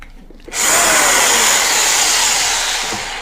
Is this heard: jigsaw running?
yes